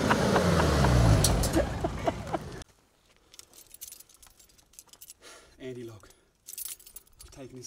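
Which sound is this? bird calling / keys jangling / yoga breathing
keys jangling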